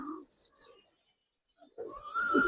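Old-breed Giribaz pigeons in a loft give faint, soft coos in two short bursts separated by a near-silent pause, with a louder cooing phrase at the end.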